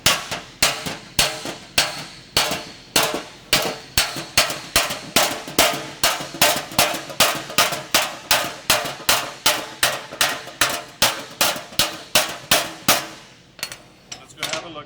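Hammer blows strike a severely damaged car fender in a fast, steady series of sharp metallic hits, about two per second, close and loud, slowing and stopping near the end.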